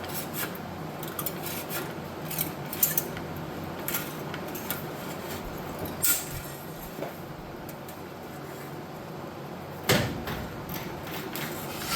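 Sheet metal for a 1969 VW bus hatch patch is cut with a steady, rasping scrape that runs without a break, broken by a few sharp clicks and knocks.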